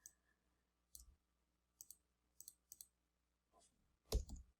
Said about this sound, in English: hold the Shift and Control key and then click and drag.